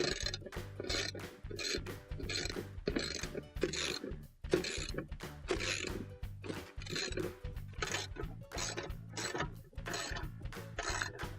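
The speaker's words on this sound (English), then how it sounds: "We're going to use our 3/8 socket to tighten those all up." Ratchet wrench fitted with a 3/8-inch socket tightens screws during a washer tub bearing replacement, giving a steady run of close, crisp clicking strokes throughout, with a brief pause near the middle.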